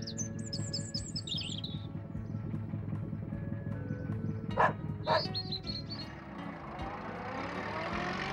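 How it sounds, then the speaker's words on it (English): Cartoon farm dog barks twice, short sharp yaps around the middle of the stretch, over a steady music bed with chirping bird sounds at the start and end. "Dog."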